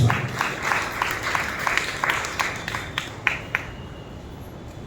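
A church congregation claps loudly together during a worship service, a fairly faint, rhythmic burst of hand claps that fades out after a few seconds.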